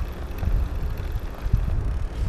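Wind gusting against a microphone outdoors beside the Danube between Tuttlingen and Ulm: a steady, fluttering low rumble with soft buffets throughout, no talking.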